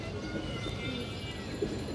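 Muslodom pigeons coo softly in a low, continuous murmur, close by, with a faint steady background hum and no talk.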